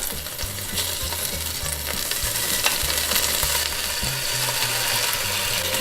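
Meat sizzles and spits steadily in a hot pan while being basted, with a dense crackling hiss and repeated clattering knocks of a spoon against the pan, close and loud.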